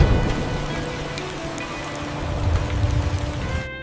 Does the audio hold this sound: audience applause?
no